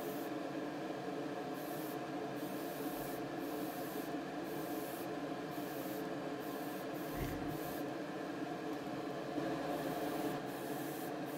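Aerosol paint hisses steadily onto a 1:24 Aoshima Nismo Fairlady Z '07 model body, laid down as a light dusting coat in short bursts with brief pauses, close and continuous without any voices.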